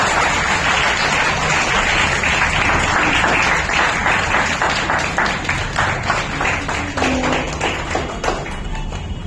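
Steady applause from an audience at an award ceremony, dense clapping sustained throughout at a consistent level, gradually thinning slightly toward the end.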